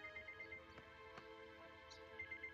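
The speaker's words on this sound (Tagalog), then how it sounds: "cellphone mo ba yun?" A cellphone ringtone rings with a steady, repeating electronic melody, moderately quiet and heard on its own with no talking over it.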